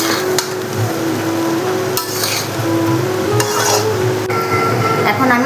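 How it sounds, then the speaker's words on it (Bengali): Mango pieces are stirred into fried rice in a pan, making close, fairly loud spatula scrapes and knocks over a constant hiss, with a faint steady hum underneath. "এখন আমি আমগুলো দিয়ে দেব। দিয়ে ভালো করে মিশিয়ে নেব।"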